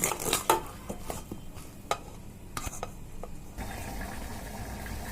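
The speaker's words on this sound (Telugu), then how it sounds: "ఇదంతా బాగా కలిసే వరకు కలుపుకోవాలండి." A spicy cauliflower pickle mixture is stirred with a utensil, giving quiet, close scrapes and a series of irregular clicks and taps against the container, then a softer, steadier mixing sound, with no talking.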